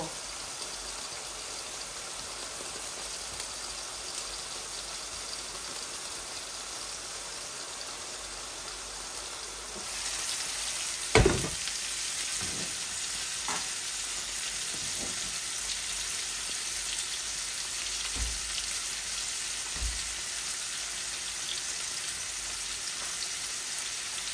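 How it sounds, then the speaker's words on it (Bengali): Tilapia fish fry in a pan with a steady, rain-like sizzle that grows louder partway through, punctuated by a few brief clicks and knocks from the cookware. "একটু মাখা মাখা করে মাছগুলোকে আমি ভাজা ভাজা করব।"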